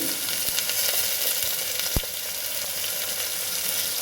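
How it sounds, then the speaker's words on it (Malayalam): Diced carrot, beans and green peas sauté in a pan for a vegetable pulao, giving a close, steady sizzle with a few sharp clicks of a utensil against the pan. "ഇതിലേക്ക് ഇനി നമുക്ക് അരിഞ്ഞു വെച്ച ക്യാരറ്റ് അതുപോലെ ബീൻസ് പിന്നെ പട്ടാണി പട്ടാണി കടല ഇത്രയും ചേർത്ത് കൊടുത്തിട്ടൊന്ന് വഴറ്റി കൊടുക്കുന്നുണ്ട്"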